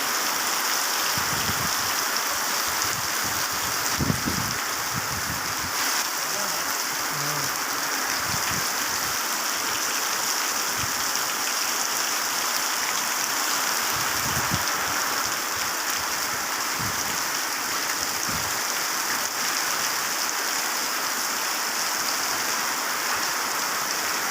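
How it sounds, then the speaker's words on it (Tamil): Steady rain hisses over water running through a cattle shed as the Kaveri river floods, a dense, even wash of sound with occasional low thumps and splashes, no talking. "நம்ம காவேரி ஆறில் வெள்ளம் ஓடுற மனைக்கு தொழுவத்துக்குள்ளே எப்படி அந்த தண்ணியெல்லாம் ஓடிட்டுருக்குன்னு பாருங்களேன்"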